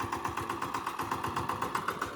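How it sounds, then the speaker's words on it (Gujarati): A VST Shakti 130DI tractor's diesel engine running just after starting, a steady rapid thumping idle with even rhythmic pulses, close and fairly loud. "જો અત્યારે અમે ટ્રેક્ટર ચાલુ કરીએ"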